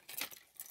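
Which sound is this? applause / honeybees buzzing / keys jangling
keys jangling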